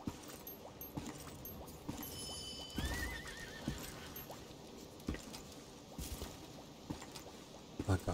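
Horse in the video game Lost Ark whinnies and neighs while hooves clip-clop in a steady rhythm, with game ambience and faint tones underneath.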